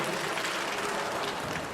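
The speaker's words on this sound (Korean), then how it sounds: "큰 박수 부탁드리겠습니다" A brief burst of applause from an elderly crowd at an outdoor community event, dense steady clapping from many hands at moderate volume.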